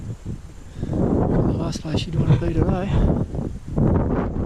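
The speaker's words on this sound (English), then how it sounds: "I know it sounds like it's blowing a gale" Wind buffeting a microphone on an exposed high section of the Overland Track walk, a steady low rumble throughout as a person talks over it.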